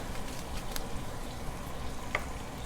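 Sliced onions sauté with salt and curry leaves in a pan, giving a soft, steady frying crackle with occasional faint clicks, fairly quiet and close.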